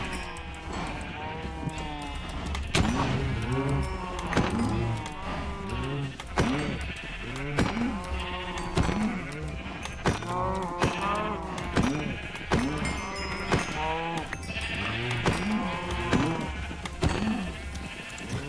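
Cows in the Minecraft GregTech New Horizons modpack, a long run of repeated game moos and bleat-like calls, overlapping and frequent at a steady pace over background game noise, without talking.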